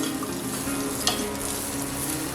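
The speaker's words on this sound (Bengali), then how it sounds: "সাইড দিয়ে দিয়ে ভাবে তেলটাকে তুলে দিচ্ছি মালপোয়ার উপরে" Malpua fries in hot oil with a steady, close crackling sizzle while oil is spooned over it, one brief clink of the spoon cutting through midway; no talking.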